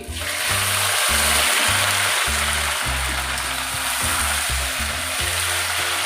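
Bori lentil dumplings dropped into hot frying oil, setting off a loud, continuous, close sizzle with broad crackling hiss that holds steady throughout.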